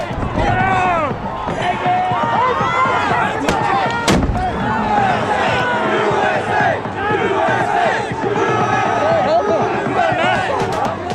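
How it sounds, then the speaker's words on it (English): A loud crowd shouts and clamors continuously at a Capitol Hill clash, while a sharp explosive police flashbang grenade bang cuts through midway, with other thuds scattered amid the chaos. "Police started throwing flashbang grenades and spraying mace."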